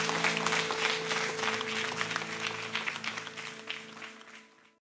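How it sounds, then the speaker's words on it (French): Church congregation clapping loudly over sustained keyboard chords at the end of a sermon, the applause strongest at first and then gradually fading out. "ceux qui le croient disent Amen et applaudissent bien fort"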